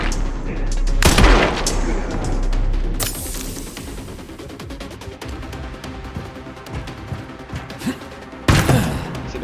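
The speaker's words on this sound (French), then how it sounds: "Il me tire dessus alors que moi je ne les vois pas" In the Resident Evil Requiem video game, gunfire is aimed at the player: two sharp, loud shots about seven seconds apart, with scattered quieter cracks and thuds between them.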